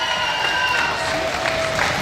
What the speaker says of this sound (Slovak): takže aj pre neho veľký potlesk